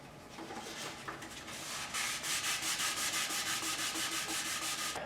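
Sandpaper rubs back and forth on a motorcycle's front fork tubes during a fork rebuild, starting as a steady scratchy hiss and then settling into even, rhythmic strokes about twice a second, close and fairly loud.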